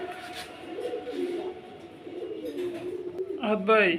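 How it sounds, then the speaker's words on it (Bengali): A Nepali High pigeon gives soft, low coos close by, mixed with people talking over it and a brief fluttery burst near the end. "কবুতরটা অনেক ছটফটা এবং কোয়ালিটিফুল কবুতর নাজরা কালদম নাজরা কালদম এটা হচ্ছে নেপালি হাই প্লেয়ার"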